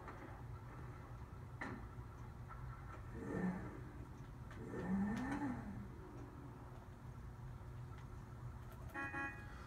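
A Lampadati Felon with a 3.7 liter V8 in a video game idles and blips its throttle twice in short revving swells, fairly faint with a few clicks, no talk.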